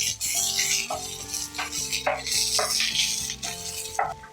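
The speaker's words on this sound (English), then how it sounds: "And roast the onions until it turns translucent." Onions roasting over medium heat in a pan for Mangalorean chicken ghee roast, with a steady sizzle and repeated clinks and scrapes of a utensil stirring against the pan, over a faint musical tone.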